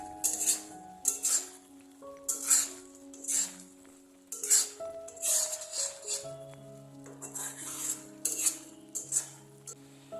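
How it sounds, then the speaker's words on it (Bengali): Carrot halwa is stirred continuously in a pan with a metal spoon, producing repeated clinks and scrapes in an irregular rhythm, close and fairly quiet, with faint tonal hum in the background. "এবার আমাকে গাজরের হালুয়াটা অনবরত নেড়ে যেতে হবে, যাতে নিচে লেগে না যায়।"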